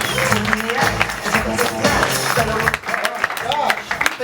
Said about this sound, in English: please give a huge round of applause for the wonderful Andrew Tavin